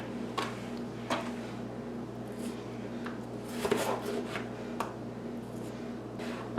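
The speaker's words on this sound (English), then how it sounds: "we're going to slice up 1" A knife slices a single Roma tomato on a cutting board, making quiet, irregularly spaced cuts and taps against the board, each a short soft thud with faint rubbing between them.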